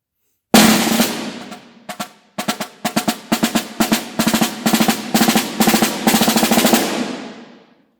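Snare drum playing measures 16 to 25 of an advanced etude by M. Peters: crisp close strokes in rhythmic groups and short rolls, building steadily in loudness, then ringing off into silence.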